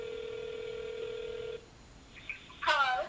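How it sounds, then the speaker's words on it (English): A phone emits a steady dial tone that cuts off, followed by a few faint keypad beeps and a brief louder burst at the end. "So I have my numbers. I'm going to be dialing them."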